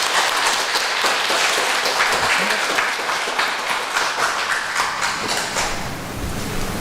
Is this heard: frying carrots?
no